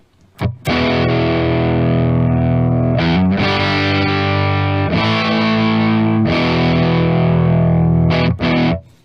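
A distorted electric guitar plays sustained, crunchy chords through a modeled 1965 black-panel Fender Deluxe amp on a POD 2.0, loud and close, with brief pick attacks and short gaps between ringing strums.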